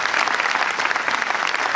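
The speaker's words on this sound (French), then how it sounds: "je crois qu'on peut les applaudir très fort" A cinema crowd at a film premiere in Torcy claps loudly and continuously, a thick, even burst of applause with no talking on top.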